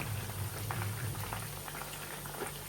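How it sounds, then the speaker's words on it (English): Chicken frying in hot oil for pepper chicken, a steady close sizzle with soft crackling pops and bubbling running throughout, with no talk over it. "So next, start frying the chicken."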